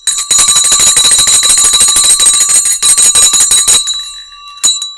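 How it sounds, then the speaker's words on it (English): A stock market opening bell rings loudly and continuously for nearly four seconds, a bright rapid metallic ringing that stops abruptly, followed by a couple of faint trailing strikes. "It's a morning bell, so if you are still groggy from the morning, you've got 4 seconds to cover your ears"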